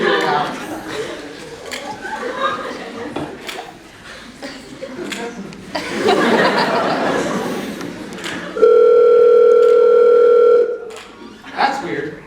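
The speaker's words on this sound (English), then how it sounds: "I thought I turned my phone on silent." A phone rings in a cartoon musical scene: a steady electronic ringtone holds for about two seconds, loud and close, after a stretch of chatter and chuckling, with voices returning at the end.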